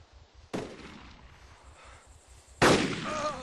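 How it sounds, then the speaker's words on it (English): Two sharp gunshots crack out at a shooting range, the first early and the second a couple of seconds later, each a loud, abrupt blast with a short ringing tail over quiet background. "I'm gonna shoot him in the knee and leave"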